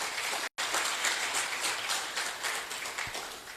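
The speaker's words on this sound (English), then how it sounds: "I think that deserves one more round of applause" A lecture audience on mining in Zambia applauds the presenter, a soft, fairly distant patter of many hands clapping steadily, broken by a brief cut near the start.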